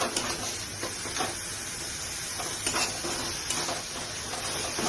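Rohu fish curry with capsicum sizzles steadily in the pan as it is sautéed, a close, even hiss of frying with soft occasional pops and stirring scrapes, with no voices.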